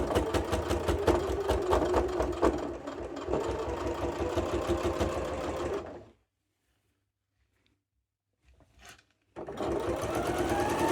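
A sewing machine stitches a card holder through thick fabric layers, running close with a fast, regular needle chatter for several seconds, then stopping into near silence before resuming at a steady pace.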